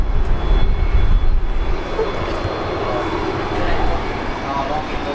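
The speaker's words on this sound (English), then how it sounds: "there she is there, the last Qantas 737-400." A Qantas Boeing 737-400 freighter jet takes off at Brisbane Airport, a steady, distant, rumbling roar that fades slightly, with a voice talking over it.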